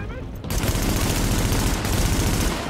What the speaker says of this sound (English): Ow, being shot at, oh wow